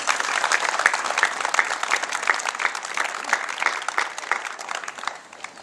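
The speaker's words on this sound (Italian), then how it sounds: "colgo l'occasione per dedicare un applauso all'architetto De Rocco" An audience at the inauguration and reopening of the Alvisopoli woodland applauds steadily for about five seconds, a dense mass of claps that fades slightly at the end.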